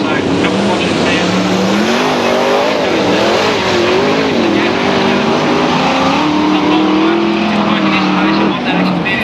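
Loud, continuous roar of sprint car engines at Western Auto Raceway, Bacchus Marsh, with rising and falling pitch as they rev and accelerate, close by and filling the whole stretch, with a commentator talking over it.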